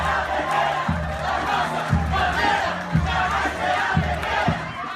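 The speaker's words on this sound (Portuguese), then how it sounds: "A outra parte reagiu, aplaudindo e gritando "Fora comunistas"" A large political crowd at a Brazilian Independence Day event claps and chants slogans in loud rhythmic unison, with repeated shouted phrases over continuous crowd noise.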